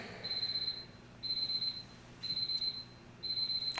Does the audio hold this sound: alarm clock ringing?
yes